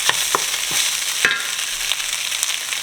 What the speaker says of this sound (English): And then I'm adding my beef stock.